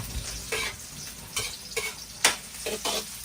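Chicken frying in a pan, loud crackling sizzle bursting in repeated waves with stirring, close and clear, no voices.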